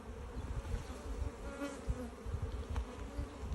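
Honey bees buzz around a backyard beehive, a dense, steady drone of many insects at moderate volume with a single fly-by passing close, without speech.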